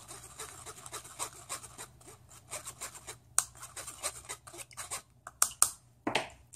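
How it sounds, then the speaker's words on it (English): A spoon stirring liquid papaya sauce, soft scraping and rubbing strokes in a steady rhythm, close by and fairly quiet, ending in a few sharper clinks. "I just use a spoon to help stir so the liquid go down faster"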